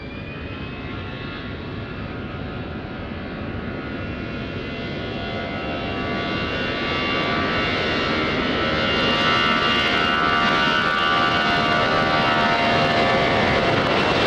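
A Portugal airliner takes off from runway 20 at Lisbon Airport, its jet engines roaring loud and broadband. The roar swells steadily as the aircraft spools up and accelerates, then holds a powerful, sustained rumble with a rising whine. No voices are heard.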